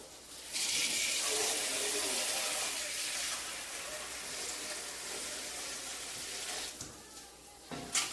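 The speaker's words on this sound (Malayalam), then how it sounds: "ഒന്നുകൂടെ കഴുകും." Tap water runs steadily over aloe vera leaves being washed in a sink, a broad close splashing hiss that holds for several seconds before breaking into brief splashes.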